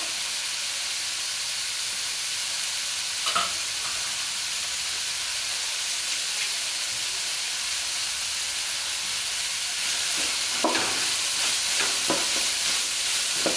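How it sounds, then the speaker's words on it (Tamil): Vegetables and curry leaves sautéed in a pan for egg noodles, a loud steady hissing sizzle with intermittent scraping stir strokes, especially toward the end, and no voices. "ஸோ நல்லா வதக்கிக்கோங்க"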